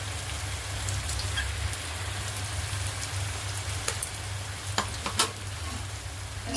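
A ginger, garlic and chili paste fries in a pan over low heat with a steady, dense sizzle and a low hum beneath it, and a few soft clicks near the end.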